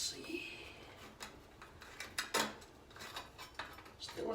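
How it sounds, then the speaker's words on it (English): Knife cutting a sausage and cheese calzone inside a pan, giving faint scattered clicks and scrapes of metal against the pan, quiet and close. "I'm not supposed to cut in the pan"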